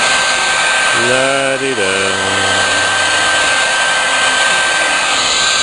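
Heat gun blowing hot air to shrink thin-walled shrink tubing, a steady loud broadband rush that runs unbroken throughout, with a brief hummed voice over it near the start.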